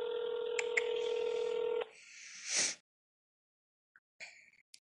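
A telephone plays a run of dialing tones, a steady multi-tone beep with short key presses, followed by a brief ring-like burst, silence, and a few faint clicks.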